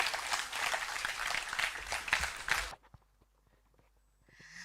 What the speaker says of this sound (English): I think the man Alan Cash deserves another round of applause.